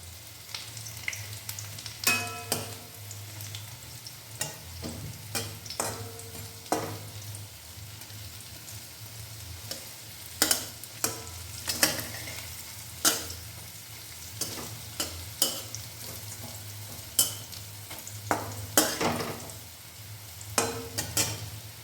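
Drumstick flower pakoras fry in oil with a continuous sizzle while a utensil repeatedly scrapes and clinks the pan at irregular intervals, close by, over a faint low hum.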